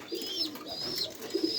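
Racing pigeons in a loft coo softly and repeatedly, low throaty calls rising and falling over a steady background of other birds chirping close by.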